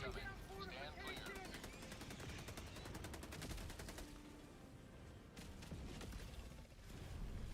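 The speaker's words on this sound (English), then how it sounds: "Orbital barrage incoming." An orbital barrage strike rains down in Helldivers 2 as rapid, evenly spaced bursts of impacts and explosions, loud and continuous, with a brief lull before more blasts, mixed with game sounds and a voice.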